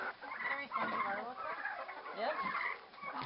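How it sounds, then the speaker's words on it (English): Several chickens, small and large, cluck and chatter continuously close by on a farm, overlapping calls with no pauses. "Little chickens and big chickens."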